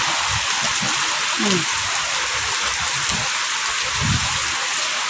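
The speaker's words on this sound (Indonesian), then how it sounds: "Hujan beberapa hari ini sampai banjir ya pemirsa." Heavy rain pours down steadily during several days of flooding, a dense, loud, unbroken hiss with low splashing and muffled thumps beneath it.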